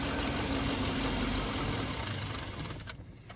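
A GM 5.3 engine in a 2000-06 Tahoe runs steadily at close range, then fades and dies near the end as the fuel pump relay is pulled, leaving quiet.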